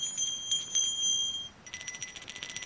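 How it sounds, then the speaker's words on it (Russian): Small handbells rung one at a time, each giving a bright high ringing tone, then all shaken together in a rapid tinkling jangle; close and moderately quiet. "Давайте послушаем голос каждого колокольчика."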